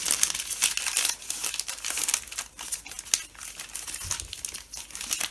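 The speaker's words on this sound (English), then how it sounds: "we take a piece of newspaper and rip it down just like this" Newspaper being torn and crumpled by hand, close crackling and ripping bursts in an irregular series with no voices.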